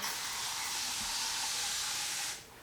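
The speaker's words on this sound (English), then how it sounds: "I'm just going to spray my hair down a little bit with the water" A spray bottle sprays water onto hair in a sustained, close hiss lasting about two seconds, then stops abruptly, leaving quiet room tone.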